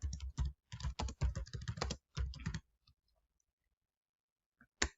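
Rapid bursts of computer keyboard typing, close and clear, in several quick runs over about two and a half seconds, followed by near silence and one last key tap.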